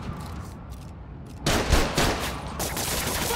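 Gunfire in the Spider-Man: Miles Morales video game, a quiet stretch followed by a sudden burst of loud, rapid shots that continues as a dense volley to the end.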